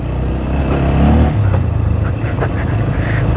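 An off-road dirt bike's engine runs loud and close on a slow ride from Deusa to Mukli, a steady droning roar with a slight swell in revs partway through and no talking.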